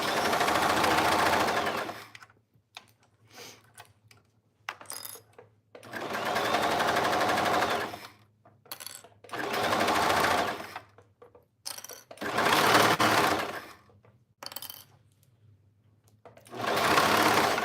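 A sewing machine stitches a basic tee in several loud, close bursts of rapid mechanical whirring, each a few seconds long and separated by brief pauses with no talk.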